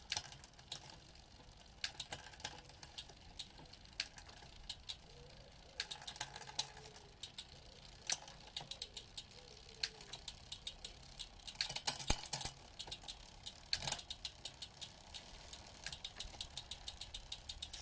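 A road bike on its small 34-tooth front chainring shifts through the rear cassette, giving a steady string of faint, quick mechanical clicks and ticks over a low background hum.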